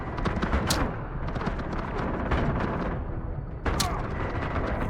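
Turret gunfire in the game Atomfall, a dense, continuous barrage of loud rattling shots with sharp bright cracks near the start and again near the end, close and unbroken throughout.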